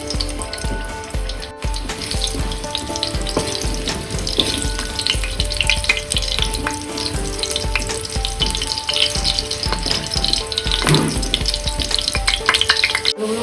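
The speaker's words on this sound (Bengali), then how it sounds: "এবার আলু দিয়ে দিলাম।" Potatoes fry in hot oil in a wok with a loud, continuous crackling sizzle. Occasional stirring and scraping sounds break through the sizzle, which stays close and busy throughout.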